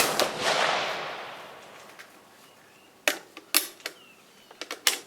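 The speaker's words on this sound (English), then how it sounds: "We're going to shoot them at my backstop" An RTI 1888/90 Mannlicher rifle is fired with cast bullets toward a backstop: one loud close crack that decays over about two seconds, then a run of sharp metallic bolt clicks and clacks.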